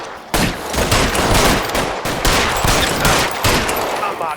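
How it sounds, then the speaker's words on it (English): Blind-fired gunshots ring out in the video game LA Noire, a loud rapid fusillade of cracks repeating close by for several seconds. "Blind firing."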